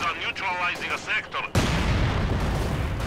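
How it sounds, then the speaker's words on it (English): Someone talks briefly, then a single heavy mortar blast from Company of Heroes 2 hits hard and its rumbling boom lingers loudly for over a second. "That's their own mortar."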